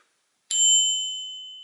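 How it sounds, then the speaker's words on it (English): A black-finished brass Owl Vision Hoot Mini bicycle bell gives one clear ding. The bright metallic tone rings out alone and decays slowly. "This is the Hoot, Owl Vision Hoot Mini. It's actually brass, but made black."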